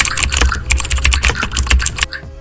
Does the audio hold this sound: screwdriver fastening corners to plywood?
no